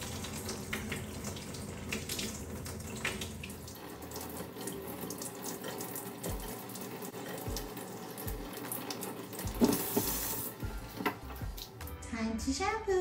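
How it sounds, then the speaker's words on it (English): Tap water runs steadily over a toddler's hair during a wash, cool to slightly warm, splashing continuously with a few louder gushes near the end. "I start by saturating his hair with cool to slightly warm water."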